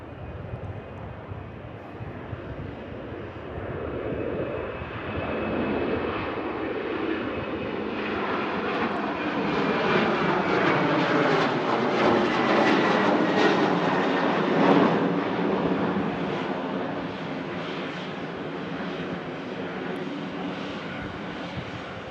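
Ryanair jet airliner climbing out after takeoff from Manchester Airport, a loud sustained engine roar that swells to a peak midway and then slowly fades as it pulls away.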